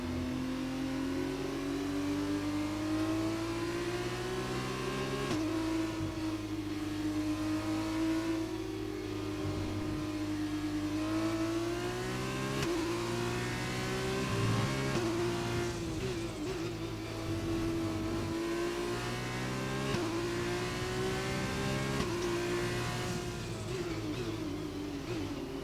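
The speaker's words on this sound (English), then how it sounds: "floor it near the end to get myself going through the gears" An F1 car in the racing game F1 2020 accelerates up through the gears, its engine note climbing again and again and dropping back at each shift, loud and continuous, with no talking.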